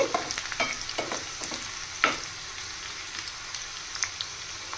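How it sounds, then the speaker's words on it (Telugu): Stirring sounds over a steady sizzle of food frying in a pan until golden, with scrapes and clinks at irregular moments and no voices. "చక్కగా గోల్డ్ కలర్ వచ్చే వరకు వేగించాలండి"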